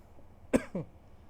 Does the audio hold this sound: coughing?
yes